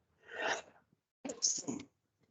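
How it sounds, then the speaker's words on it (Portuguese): Two bursts of breathy, explosive noise, a sneeze-like blast followed by a second, stronger sneeze about a second later, fairly close and moderately loud. "Desculpem, mas espirro é assim mesmo, né?"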